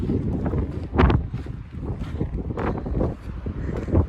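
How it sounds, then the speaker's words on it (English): Strong gusting wind on a high mountain pass above Bullfrog Lake on the John Muir Trail buffets the microphone in a steady low roar, with louder blasts surging every second or so. "Don't know if you can hear me, it's very windy."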